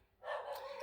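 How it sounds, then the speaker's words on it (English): A dog barks downstairs in a garden, one muffled, distant-sounding bark that lingers briefly and is heard faintly through a room, with no talking over it. "sorry, that's my dog."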